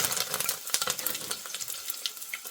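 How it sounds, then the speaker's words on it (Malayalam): A burst of loud sizzling and crackling as leaves hit hot oil, close and continuous with sharp pops throughout. "ഇനി അതിലേക്ക് കറിവേപ്പില ഇട്ട് കൊടുക്കാം."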